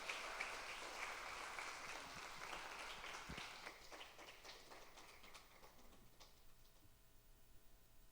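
A church youth-service congregation claps to welcome a newcomer, a dense round of applause that thins and fades over several seconds into scattered claps.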